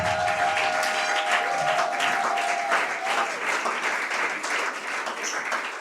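A church congregation in Libreville, Gabon, applauds steadily through a Sunday service, a dense wash of clapping that holds loud for the whole stretch, with a brief sustained tone early on.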